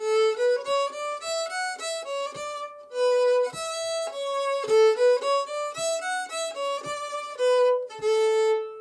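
A bowed fiddle plays a bright, clear melody of short separated notes, steady and close, with no voices.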